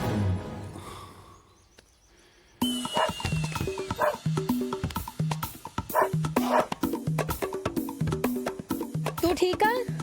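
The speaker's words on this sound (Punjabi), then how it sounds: "ਉਹ ਮੇਰਾ ਕੁੱਤਾ" A pet dog barks and yips repeatedly at close range in a home, in sharp bursts over a rhythmic music backing, after a quieter opening stretch.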